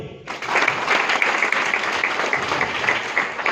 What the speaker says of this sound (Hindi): सर के लिए ताली बजाइए।